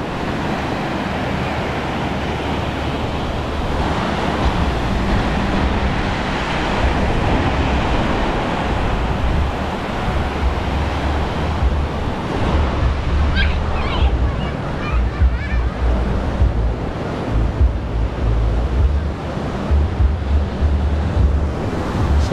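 Sea waves wash ashore with steady wind buffeting the microphone at a sunny beach near Bacolod City, a loud continuous roar with some distant voices faintly in the background.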